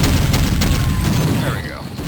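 Sentry turrets in Doom unleash rapid booming gunfire, dense overlapping blasts under a voice, fading toward a lingering tail as the volley thins out.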